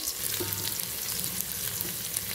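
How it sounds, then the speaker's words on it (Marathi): Finely chopped onions fry in hot oil for a mixed vajdi dish, giving a close, continuous crackling sizzle with an even level and no speech. "तेल गरम झाल्यावर त्यामध्ये कांदे घालायचे, बारीक चिरलेला कांदा घालायचा"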